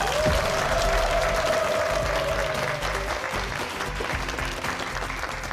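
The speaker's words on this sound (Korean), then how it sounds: "여러분의 큰 박수로 청해보도록 하겠습니다" A room full of people applauds steadily, loud and sustained throughout, with no voices on top, welcoming a lecturer onto a Korean TV lecture stage.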